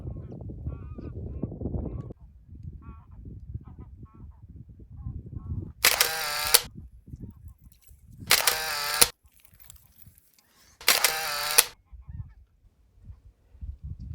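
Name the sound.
geese honking as they fly over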